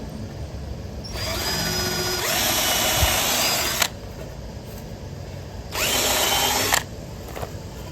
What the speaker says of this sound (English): I'm going to use a 5/16 drill bit.